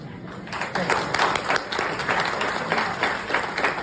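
A college auditorium full of people clapping continuously, close and lively, with a few voices mixed in under the applause.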